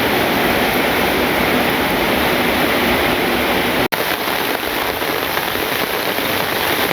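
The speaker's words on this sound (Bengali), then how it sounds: "হ্যাঁ, একদম বৃষ্টি চলে আসলো" Heavy rain pours down steadily on a rainy day in a village, a dense, loud, even hiss of drops on surfaces with one brief break partway, no voices heard.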